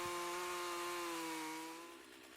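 Stihl MS362 chainsaw with a ripping chain running in a 36-inch chainsaw mill with a 28-inch bar, a steady high buzzing whine that drops slightly in pitch near the end, faint and continuous.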